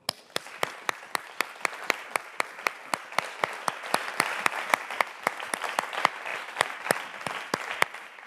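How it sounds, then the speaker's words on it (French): An audience applauds together at a charter re-signing event, a sustained wash of many clapping hands with sharp, evenly spaced rhythmic claps cutting through, steady and fairly distant throughout. "On vous demande un applaudissement général avant de faire la photo de groupe"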